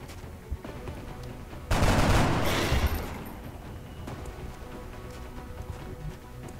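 Gunfire in the tactical game XCOM: Enemy Unknown: a loud, dense burst of shots lasting just over a second, fading into a low rumble and quiet background noise.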